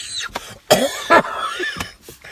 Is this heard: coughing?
yes